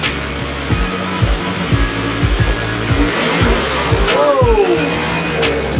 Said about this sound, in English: Jones, the tyres absolutely lit up on that rear end drag